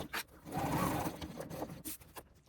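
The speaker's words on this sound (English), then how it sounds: "So sewing straight down this edge using 1/4 inch seam allowance or thereabouts." A sewing machine stitches a zip seam close by, a fast continuous whirr that swells and then stops and starts in short bursts, with no talk.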